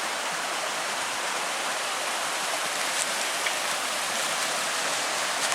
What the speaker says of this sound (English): Got the creek there. She's flowing good.